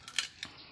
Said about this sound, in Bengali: মাছ কাটাকাটি শুরু হয়ে গেছে